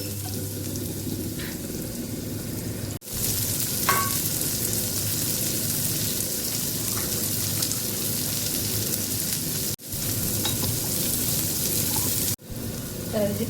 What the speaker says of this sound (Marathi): छानपैकी आपल्याला लसूण परतून घ्यायचे।